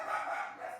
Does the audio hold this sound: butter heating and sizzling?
no